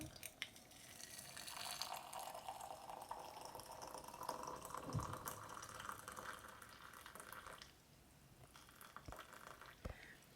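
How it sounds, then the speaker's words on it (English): Water pours into a cup for hawthorn berry tea, a soft, steady trickle and splash that thins out partway through, followed by a few faint clinks. "Pour in water."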